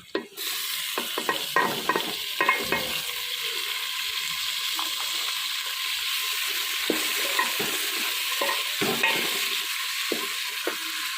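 Onions sizzle steadily in a hot pan for a masala base as a spoon scrapes and stirs them in repeated bursts, close and fairly loud, with no talking.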